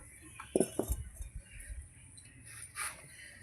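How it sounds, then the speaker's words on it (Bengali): A kadai (wok) being set down on a kitchen stove, heard as a few quick metallic clinks and knocks near the start, followed by faint kitchen background. "এবার কড়া বসিয়ে দেবো"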